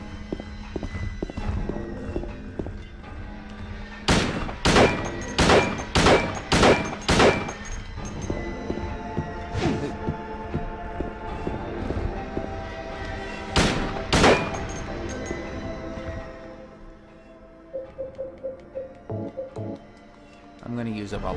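Rapid bursts of gunfire from a handgun in Silent Hill 2, a quick run of sharp shots followed by a second short volley, over eerie game ambience and footsteps, with some talk.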